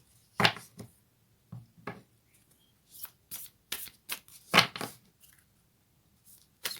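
Moonology oracle cards shuffled and drawn in a tarot-style reading, giving several sharp papery riffles and flicks at irregular intervals, close and fairly quiet.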